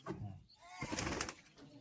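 Giribaz pigeons coo softly with a brief flutter of wings as they are released, a few quiet bird calls close by.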